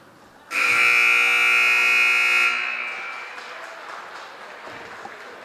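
A loud, steady electronic buzzer sounds at the end of a girls' high school basketball game, McCann against Renaissance, blaring for about two seconds before cutting off into crowd noise and gym ambience.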